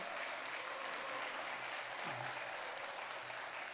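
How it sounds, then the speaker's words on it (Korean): A church congregation gives a sustained, even round of applause, a dense wash of many hands clapping at a steady level from start to finish, heard from some distance. "한 번 더 영광의 박수 하나님께 올릴까요?"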